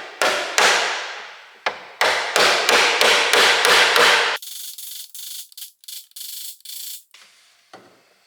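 A light hammer knocks out a dent in a VW Golf 3 body panel: a run of sharp metallic taps with ringing decay, then a quicker series of lighter, duller taps, close up with no talking.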